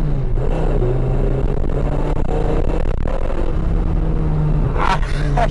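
A V10-powered BMW E24 roars loudly and continuously as its engine revs hard and the tyres fight for traction.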